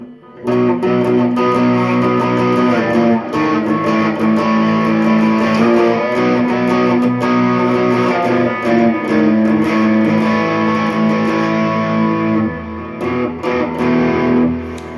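A loud, sustained Harley Benton TE20 electric guitar on the bridge pickup, through a TC Electronic Zeus overdrive pedal, plays gritty chords and notes steadily with some hum, no voices, fading briefly near the end before resuming.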